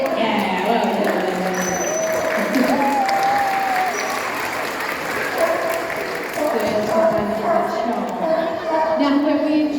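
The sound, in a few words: audience applause at safari park sea lion show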